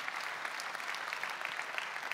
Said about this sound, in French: Mesdames, messieurs, on peut encore les applaudir